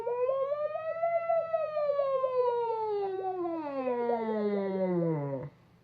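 A singer slides smoothly up and then down through the vocal registers on a hummed ng with lips rounded toward a W, one continuous sustained siren-like glide over faint background hum.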